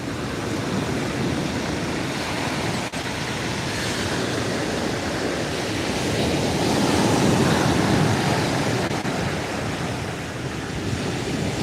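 Sea waves wash around a fishing kayak at sea, a loud continuous rushing surf with gusty wind noise buffeting the microphone, steady and close throughout.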